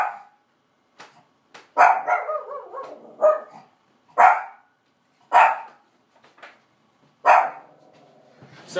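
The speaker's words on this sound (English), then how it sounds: "Hey, it's my dogs." Dogs bark indoors in a series of loud, sharp barks, about six bursts spaced roughly a second apart, some doubled, with brief quiet gaps between.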